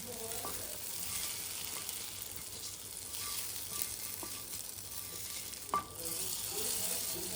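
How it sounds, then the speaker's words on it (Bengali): Spiced masala paste poured into a pot of khichuri, rice and lentils already soft and thick, setting off a steady close sizzle with soft stirring clicks and a brief sharp scrape near the end. "এরপর আমি মশলাটা ঢেলে দেবো।"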